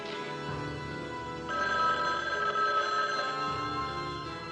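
A telephone, likely a landline at a phone booth, rings repeatedly with no answer, a steady electronic trill that swells in the middle, moderately loud and uninterrupted by talk.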